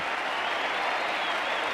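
Dense, steady roar of applause and cheering from a large cricket crowd at the Sydney Cricket Ground during an Australia versus South Africa Test match, loud and continuous without a break.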